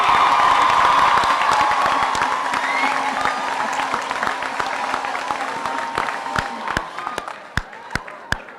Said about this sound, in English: Let us give them a round of applause for their hard work in making this commencement ceremony so memorable.